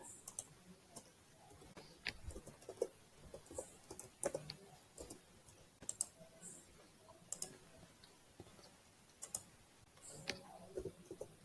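A computer mouse clicks to select a reset password option, giving faint, scattered single clicks at irregular intervals over a quiet, hissy room background.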